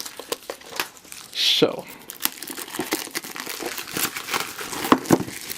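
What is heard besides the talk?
peeling plastic wrap off a card game box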